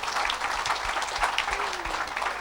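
Steady applause from a church congregation, dense and continuous with a few louder claps standing out, filling the whole moment without any voice over it.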